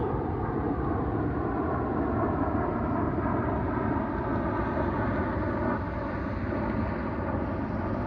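Continuous droning engine buzz, steady and fairly loud, of a model airplane flying overhead without pause.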